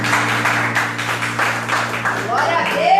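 A church congregation claps in steady rhythm during a worship service, the beat running evenly beneath voices.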